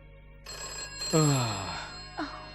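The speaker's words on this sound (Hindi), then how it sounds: "कोई फोन उठाओ भाई, उठाओ भी।" A telephone rings in a comedy film scene with a steady electronic tone that starts abruptly, joined by sliding downward swoops in the middle, and a shorter swoop near the end.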